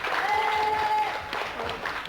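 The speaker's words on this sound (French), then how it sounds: "On peut les applaudir également" Studio audience clapping on a 1992 French children's video game TV show, a short dense burst of applause with a held tone over it, fading a little toward the end.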